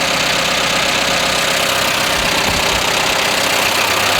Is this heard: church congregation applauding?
no